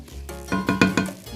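Shrimp and scallops cooking in a pan with parsley and thyme, a close sizzle broken by several quick stirring scrapes in a steady rhythm.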